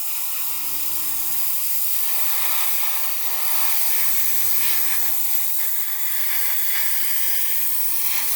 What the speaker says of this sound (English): I would actually say this sprays better than the bigger nozzle.